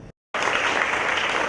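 A crowd at a youth summit in Hollywood bursts into applause after a brief silence, dense and loud, keeping up evenly without letting up.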